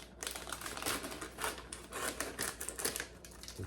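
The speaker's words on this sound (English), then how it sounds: "open up our stir fry vegetables with a pair of scissors" Scissors snip open a plastic bag of stir fry vegetables on a kitchen countertop, giving a run of close, crisp cutting and crinkling clicks with no talking.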